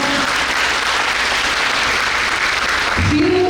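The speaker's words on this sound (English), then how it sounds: "I think that demands a good round of applause for him." Audience applause at the 94th annual convocation of Hans Raj Mahila Maha Vidyalaya in Jalandhar, a loud, dense and steady round of clapping from a large crowd that continues through the whole stretch.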